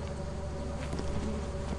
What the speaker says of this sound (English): It's electric bees!